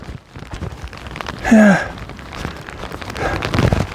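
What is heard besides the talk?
rain falling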